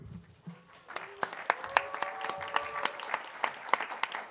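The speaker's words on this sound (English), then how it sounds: "Give a big round of applause for the fighters here today." Scattered clapping from a press-conference audience for a fight night, moderately faint with sharp individual claps standing out, while a voice talks over it throughout.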